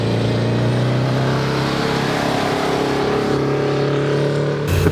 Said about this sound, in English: I do love this 4-cylinder 1400 engine